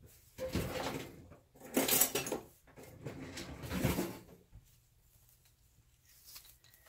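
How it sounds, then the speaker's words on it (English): A whisk is pulled from a kitchen drawer in a few bursts of rattling and clattering utensils, then a quiet pause. "Let's get that whisk out."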